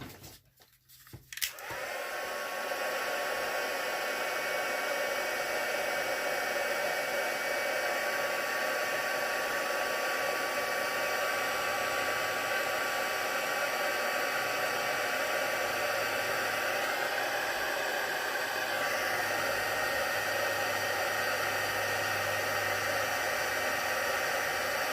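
Heat tool blowing hot air over a card during card making, starting after a few brief knocks and then whirring steadily and loudly for over twenty seconds, a constant airy roar with a faint high whine.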